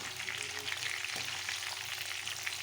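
Chicken frying in oil for hotel-style chicken fry curry, a continuous soft crackling sizzle at low level with a faint clink partway through.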